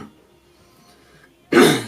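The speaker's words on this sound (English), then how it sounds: "sorry, I just had a little cough there" A single abrupt, close cough bursts out after a near-silent pause.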